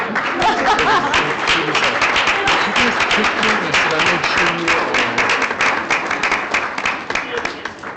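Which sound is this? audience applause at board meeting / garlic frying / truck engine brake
audience applause at board meeting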